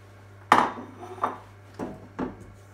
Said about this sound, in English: Now we're going to add 150 grams of caster sugar and stir it in